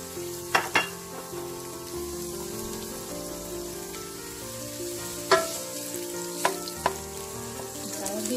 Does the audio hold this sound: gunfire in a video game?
no